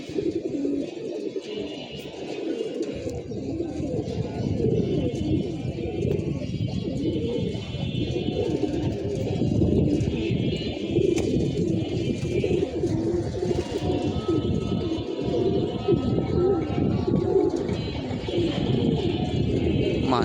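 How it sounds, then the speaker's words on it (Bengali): Pigeons over a house coo in soft, continuous throaty calls, with faint chirps and rustling mixed in, steady and fairly close throughout. "ভালো হাইট নিয়ে উঠতেছে কবুতরগুলা।"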